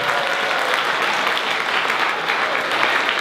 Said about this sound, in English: round of applause for IE.